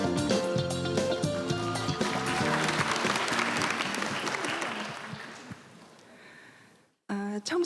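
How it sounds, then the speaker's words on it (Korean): An audience at a youth law debate competition ceremony in Korea applauds to welcome a speaker to the stage, sustained clapping that fades out, then brief sounds resume after a short pause. "큰 박수로 맞이해 주시길 바랍니다."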